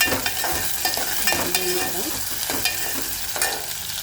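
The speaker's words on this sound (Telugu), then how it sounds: "ఆయిల్ అయితే వేడైంది ఆవాలు జీలకర్ర ఉల్లిపాయ అయితే వేసేసాను" Mustard seeds, cumin and onion fry in hot oil for a drumstick curry, giving a steady close sizzle with scattered stirring clatters and small pops throughout.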